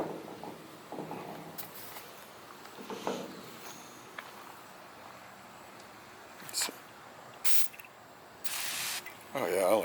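A refillable pressurized sprayer releases several short hissing bursts of spray, separated by pauses, with someone speaking quietly between them.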